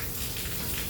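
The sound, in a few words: heavy rain falling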